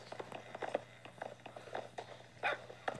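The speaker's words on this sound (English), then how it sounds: "I hear barking." A dog barking in a video game, in short, fairly quiet bursts at a steady pace over a low continuous hum, with no one speaking.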